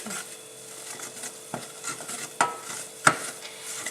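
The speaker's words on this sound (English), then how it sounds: "You add your flour and stir. Now you need to cook this for about a minute to cook the flour into the margarine." A utensil stirs flour into melted margarine in a pan over heat, a steady soft scraping and sizzle with a few sharp clinks of spoon against the pan, up close.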